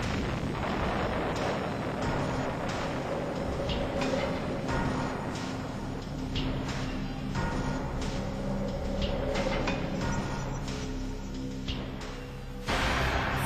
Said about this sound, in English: For the first time in history, there was a nuclear explosion.